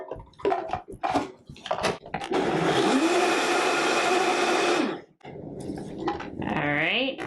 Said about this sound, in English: I'm going to blend it until it's smooth.